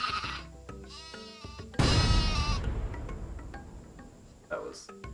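A sheep weapon bleats in Worms Ultimate Mayhem, quick wavering baas followed by a sharp burst, heard over cricket-like game ambience with a player talking.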